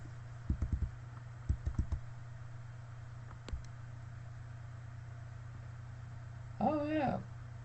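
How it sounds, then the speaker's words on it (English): Short bursts of keystrokes on a computer keyboard rattle over a constant low hum, followed by a brief spoken phrase. "Just type it in."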